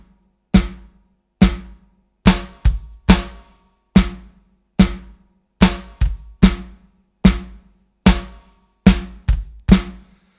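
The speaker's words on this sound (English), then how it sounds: "We're playing bass drums and snare drums on the first," Slow drum kit groove of bass drum and snare hits in a Rockschool Debut piece, about a dozen sharp, evenly spaced strikes with occasional quick doubles, played alone and close with no talking.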